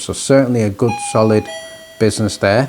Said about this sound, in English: If you just excuse the doorbell there.